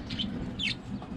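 Button quail call in two short, high chirping bursts close by, with a quiet hum of room noise underneath.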